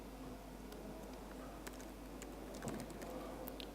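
Fast, irregular computer keyboard typing during a live SQL monitoring demo at a conference, with soft scattered key clicks over a steady hum of room noise and no speech.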